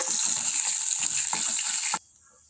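Chana dal, curry leaves and dried chillies sauté in hot oil with a loud, continuous crackling sizzle that cuts off abruptly near the end, leaving quiet.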